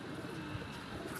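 A pigeon coos softly in a brief low murmur, close by amid steady background noise.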